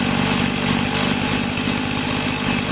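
A Stihl 180 chainsaw's small two-stroke engine idles steadily up close, a loud, even putter with a rapid rhythmic pulse and no voices.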